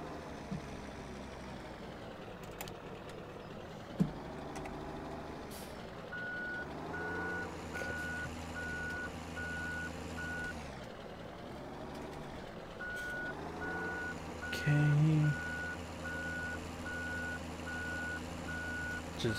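A truck with a trailer backs up in Farming Simulator 17, its reversing alarm beeping in two even, steady runs over a low idling engine that swells and dips.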